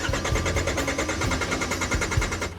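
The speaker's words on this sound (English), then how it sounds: "It means that the engine is not starting up, it's just cranking." A North Rail Express train's diesel engine cranking without catching: a fast, steady mechanical chugging rhythm from the starter, repeating evenly, with no ignition and no talk.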